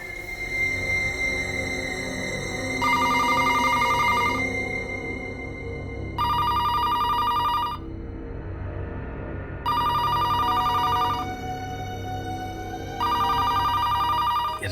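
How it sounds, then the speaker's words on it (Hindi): A telephone rings at night in a bursts-and-pauses pattern, four bright electronic rings over a low background hum, each about a second and a half long, with gaps between them. "ये रात को 3 बजे किसका फोन आ सकता है?"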